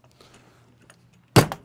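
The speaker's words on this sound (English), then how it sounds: "close the door here" The door of a Rockwood A122TH A-frame toy hauler camper shuts with a sharp, close thud and a quick rattling follow-up after some quiet handling noises.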